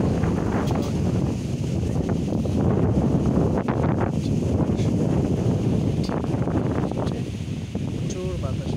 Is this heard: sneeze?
no